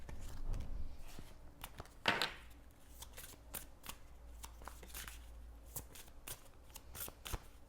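Tarot cards are shuffled by hand close up in quick riffling bursts, with one louder flurry near the start followed by repeated short flicks and taps.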